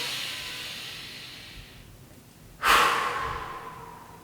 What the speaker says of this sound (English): breathe in, We're expanding out and out.